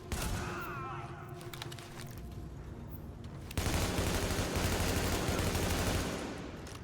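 Heavy-recoil gun firing in an apocalyptic New York video game, a dense sustained burst of rapid shots that swells louder halfway through, with no talk over it.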